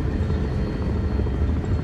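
Helicopter rotor and engine drone from a military video game as the aircraft comes in to land at a landing zone, a loud, steady, continuous low thrum filling the whole clip.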